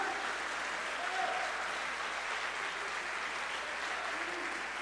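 A church congregation applauds during a celebration service, a soft, continuous wash of clapping heard at a distance, with a faint voice showing briefly.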